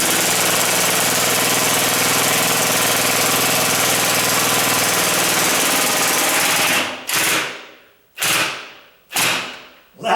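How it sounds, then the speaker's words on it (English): An impact driver drives a long screw during a door installation: steady loud hammering rattle for about seven seconds, then three short bursts as the driver is pulsed on and off, no voices. "This one I can use my impact to go all the way"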